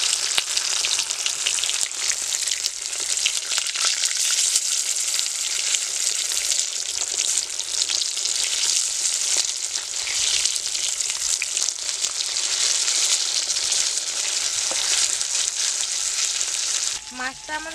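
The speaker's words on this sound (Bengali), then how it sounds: "মাছটা একটু লাল লাল করে ভেজে নিতে হবে।" Katla fish fries in oil in a wok with a steady, loud, continuous sizzle and crackle that runs unbroken for most of the clip, then a brief shift in sound near the end as the fish is handled.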